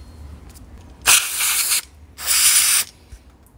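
Two long bursts of aerosol spray paint, each about a second, laying a matte finish onto parts of a 1987 Honda CR500 motorcycle, loud and close with quiet pauses between.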